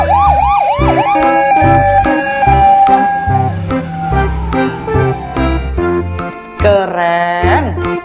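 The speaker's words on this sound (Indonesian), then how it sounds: "Di sini ada mobil ambulans." A toy ambulance plays its electronic siren loudly and up close. Wailing, warbling tones and beeping electronic melodies switch patterns several times over the clip.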